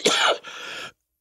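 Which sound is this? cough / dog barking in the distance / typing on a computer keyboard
cough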